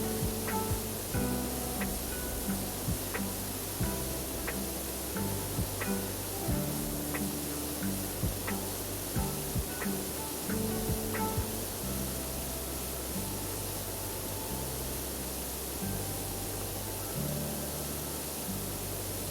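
A pressure washer sprays steadily in the PowerWash Simulator video game, a continuous hiss of water noise running throughout with faint ticking and low tonal game music underneath.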